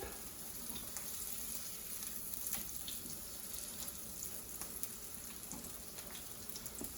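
Sweet potato and tuna patties fry in a pan of oil, giving a steady moderate sizzle and crackle with faint scraping, no voices.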